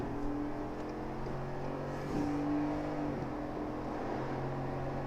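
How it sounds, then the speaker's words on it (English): A 2019 Ford F-150 pickup engine hums steadily and then rises in pitch as it accelerates onto a highway, heard from inside the cab with road noise. "Good, strong acceleration."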